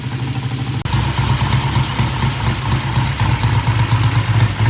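A Triumph motorcycle engine idles after a carburetor adjustment, a steady, loud, throbbing rumble with a brief dropout near the start, then an even pulsing run.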